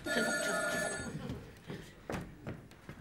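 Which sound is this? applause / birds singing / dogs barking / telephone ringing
telephone ringing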